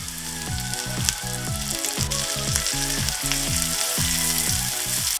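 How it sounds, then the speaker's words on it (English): Steady, loud sizzling and crackling of onion, garlic and ginger frying in a hot pan, with a continuous bubbling hiss and no voices. "Continue frying for another 2 minutes."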